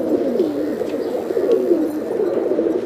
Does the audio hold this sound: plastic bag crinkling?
no